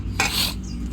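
A spoon briefly scrapes and stirs cooked rice in a pan for lemon rice, giving one short, close rasping sweep.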